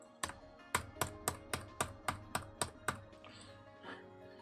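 A computer keyboard is struck hard about nine times in a steady rhythm, each hit a loud, sharp, close knock, during a pair programming session on C# ASP.NET Core.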